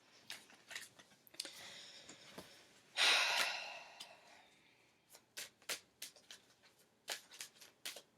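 Tarot cards being shuffled by hand, soft papery riffles and taps in a quiet room, with one louder rustling burst midway and scattered light clicks afterward, no speech.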